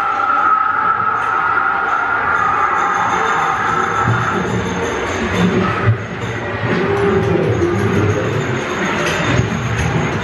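A ghost train ride car at Folly Farm clunks and rumbles steadily along its track, rattling continuously with a few louder knocks along the way.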